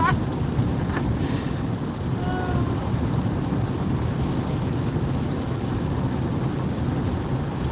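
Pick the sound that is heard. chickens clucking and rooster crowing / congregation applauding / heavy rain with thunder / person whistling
heavy rain with thunder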